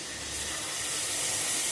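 Chicken pieces sizzle steadily in hot oil, a constant close broadband hiss with faint crackle underneath, no voices over it.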